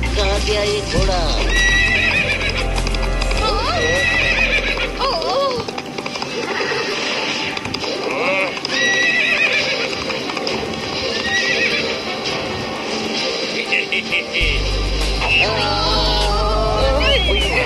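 Cartoon horse neighing repeatedly with clip-clopping hooves, loud and close, mixed with music and other cartoon sound effects throughout.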